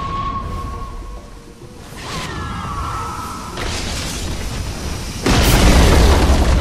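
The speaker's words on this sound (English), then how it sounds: "Radiant's bottom tower has fallen." A Dota 2 tower collapsing: a series of booming blasts and whooshes build up, with a heavy crash near the end standing out loud and close.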